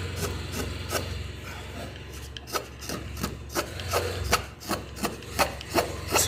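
A wooden candle-cross carving held in a vise is shaped with a rasp or file, giving steady rubbing strokes that become a regular series of distinct scraping pulses, close and alone.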